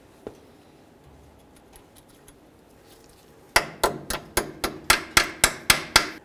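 Torque wrench tightening the ball joint nut on a 1994-2004 Chevy S-10 front upper control arm: a faint tap early on, then about a dozen sharp, evenly spaced metallic clicks, close and loud.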